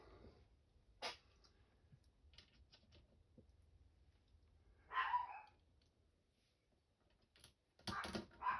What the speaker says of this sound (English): My little chihuahuas barking as usual.